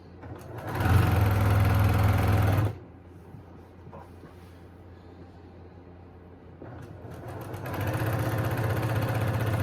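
A sewing machine stitches a quilt seam in two loud, fast runs, a short burst at the start and a longer one near the end, with a quieter gap between where the motor stops.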